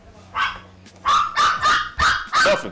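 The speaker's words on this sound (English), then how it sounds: "These dogs making too much noise." Dogs barking nearby indoors, four loud sharp barks in quick succession after a softer first yelp, with faint background noise between.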